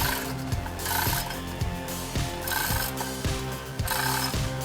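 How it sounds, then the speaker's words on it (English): A 2-ton pulley ratchets steadily while pulling out a tree stump, giving a close, loud and regular series of rapid mechanical clicks with a strong rhythmic pulse throughout. "With just 3 mason bars and a 2-ton pulley, removing stubborn tree stumps is no longer a challenge."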